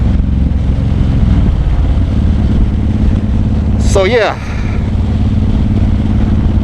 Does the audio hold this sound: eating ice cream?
no